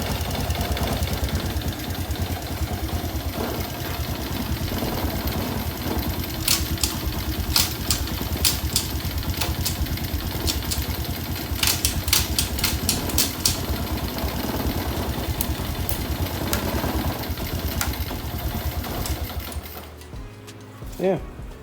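A Honda Wave 125i motorcycle engine idles nearby with a steady, fast mechanical chatter and low hum, and occasional sharp ticks. Voices talk over it, and the engine fades out near the end.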